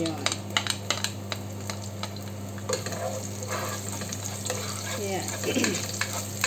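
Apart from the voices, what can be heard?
garlic and onion frying and being stirred in a pan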